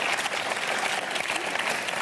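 A studio audience on a French television show breaks into dense, steady applause, a loud wash of many clapping hands filling the whole moment.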